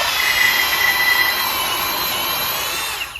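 A power drill in drill mode runs at a steady high-pitched whine, close and continuous for about three seconds, then winds down slightly at the end.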